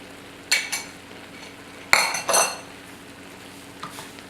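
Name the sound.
stirring butternut squash and vegetable filling in pan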